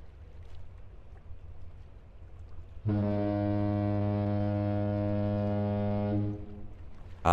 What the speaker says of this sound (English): the classic steamship honk sound effect